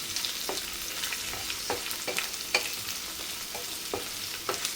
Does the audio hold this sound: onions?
yes